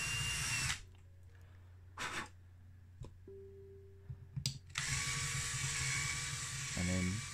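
A power drill with a larger bit grinds off the flange of a 1969 Matchbox No 20 Lamborghini Marzal die-cast car, running in loud bursts at the start, middle and end, with quieter pauses between.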